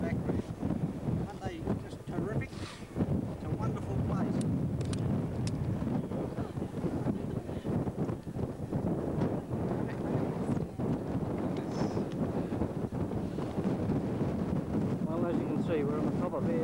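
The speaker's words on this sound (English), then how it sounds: "You can probably hear the wind blowing a fairly heavy pace here." Strong, heavy wind gusts buffet the microphone on the exposed summit of Uluru (Ayers Rock) in Australia's Northern Territory, a continuous loud roar with rushing fluctuations under faint background voices.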